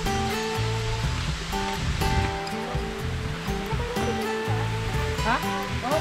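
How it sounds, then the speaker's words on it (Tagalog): A small waterfall in Quezon Province pours steadily with a broad, continuous rushing roar close by, while people talk over the flowing water. "Mini falls, oh. Mini falls."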